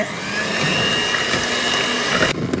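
An electric hand mixer whirs steadily as it beats cream for a 1 kg chocolate cake, a continuous close motor drone that stays loud and even before cutting off near the end.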